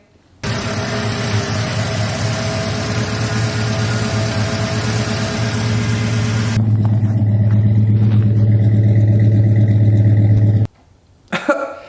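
A 350 truck engine idles with a deep, steady rumble, close and loud, holding evenly for about ten seconds before cutting off abruptly.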